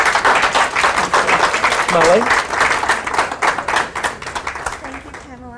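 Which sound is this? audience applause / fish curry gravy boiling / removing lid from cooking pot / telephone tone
audience applause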